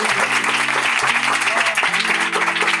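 Applause from a church congregation during a Hindi-Urdu Christian sermon, dense sustained clapping at steady loudness throughout, with a faint tonal hum underneath.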